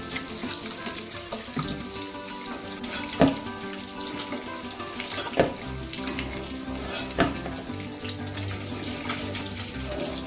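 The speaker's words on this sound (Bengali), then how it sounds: "তেলের মধ্যেই ফুলকপিগুলোকে সব ভেজে নেব।" Cauliflower florets frying in hot oil in a kadai, a steady dense sizzle running throughout with several sharp clatters of a utensil stirring, close and fairly loud, no voices.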